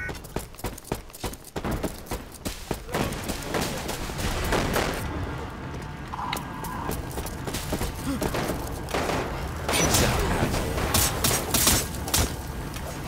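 Gunfire in the shooter game Resident Evil Umbrella Corps, set in a village map: repeated sharp shots and bursts scattered across the whole stretch, loud and close, over a busy background of game noise.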